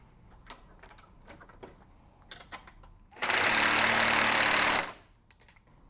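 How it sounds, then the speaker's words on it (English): A ratcheting tool, a 9/16 socket and wrench, runs on a bolt at the front hinge of a DR leaf vac, a dense buzzing burst of about a second and a half after a few faint clicks and taps. "For this, we'll use a 9/16 socket and wrench."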